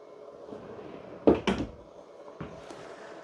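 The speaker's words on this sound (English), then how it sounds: "You also have full extending ball bearing drawer guided drawers." A full-extension ball-bearing drawer in a 2024 Coachmen Chaparral Lite 30RLS fifth wheel slides and shuts with a couple of soft thunks close by, followed a moment later by another lighter bump, with no talking.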